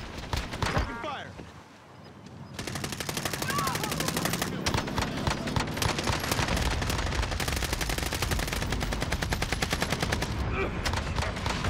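Rapid automatic gunfire in Warzone on Caldera, a Cold War AK-47 in play, rattling in long dense bursts after a brief lull, loud and close, with faint voices mixed in.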